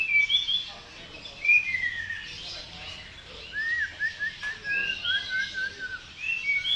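Birds chirp and whistle in quick, high bursts, with several tweeting calls overlapping against a soft background hiss.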